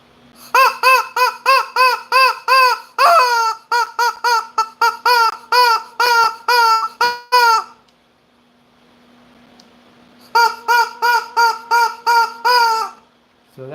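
A novelty Chicken Choker sound effect played over a CB radio PA: loud, harsh honking squawks in fast rhythmic bursts, a brief pause, then another run of squawks, with a steady low hum beneath.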